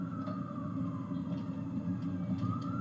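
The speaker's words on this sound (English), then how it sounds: "You can still hear the sirens blaring in the background" Emergency vehicle sirens wail at a crime scene after a man drove into a New Year's crowd in New Orleans. The rising and falling tones are faint and distant under a steady low rumble of background noise.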